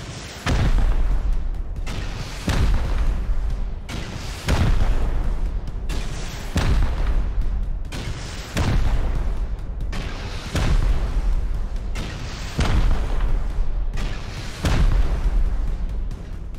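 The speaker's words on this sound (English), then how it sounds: "the next move is just to get as many rockets as I can and blow through the roof" Rockets exploding to blast through a roof in a video game, eight heavy booming blasts in a steady rhythm, each roughly two seconds apart, loud and close.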